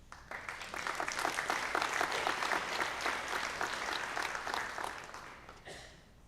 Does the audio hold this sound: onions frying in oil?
no